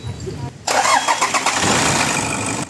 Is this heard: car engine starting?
yes